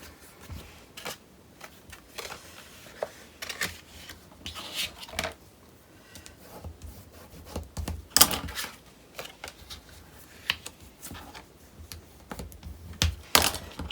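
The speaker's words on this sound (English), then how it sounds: "So I will fold all my score lines." Paper being folded along its score lines for a wedding mini album's bouncing-cube page: a series of irregular, sharp crisp creases and rustles, close and fairly quiet, with brief louder snaps.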